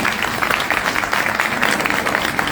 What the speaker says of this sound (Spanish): un aplauso también para el Papa